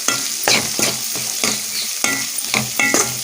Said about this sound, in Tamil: நம்ம தேங்காய் மசாலா வந்து நம்ம எண்ணெயில் பரட்டி எடுத்துக்கணும் காரத்துக்கு வரமிளகா சேர்த்துருக்கோம்